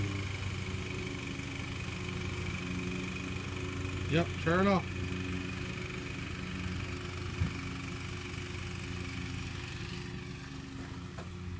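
A tractor engine chugs steadily in the background as someone speaks briefly over it, with a short high squeak partway through.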